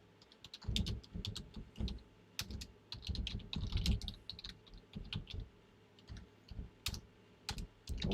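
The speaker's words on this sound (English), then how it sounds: "I can't type on the keyboard right here." Fingers type on a computer keyboard in irregular bursts of crisp, close clicking, with short pauses between flurries of keystrokes and no voices.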